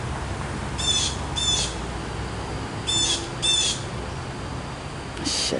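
A bird calls in a video game, five short screechy bursts in two pairs and a single, sounding over a low hiss of background ambience.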